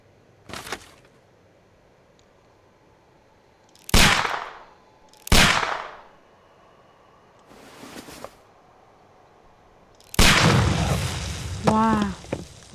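Several loud gunshot-like booms from a pistol in a Sherlock Holmes video game, fired at a package of dynamite, spaced apart, then a longer rumbling explosion burst near the end with a voice briefly rising through it.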